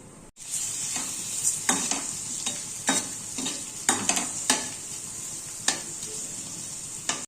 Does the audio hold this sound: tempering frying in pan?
yes